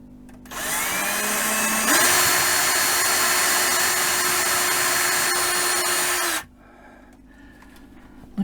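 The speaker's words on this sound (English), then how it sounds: "So now I'm just going to carefully drill this middle hole and then screw it in." A power drill bores a hole for a shelf support, a loud steady whine that starts abruptly, shifts pitch slightly as the bit bites, then cuts off, close to the microphone with no talk.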